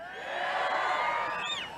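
A large crowd at an evening political rally in Omaha, Nebraska cheers and whoops loudly, a steady roar of voices that swells and then begins to fade.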